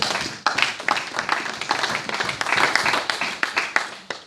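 A church congregation applauds, a dense wash of many hands clapping, close and sustained, with voices mixed in.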